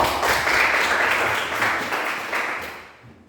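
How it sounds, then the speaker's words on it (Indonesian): Classroom applause for a student group, a dense wash of many hands clapping close by, steady then fading out at the end. "tepuk tangan untuk kelompok 4"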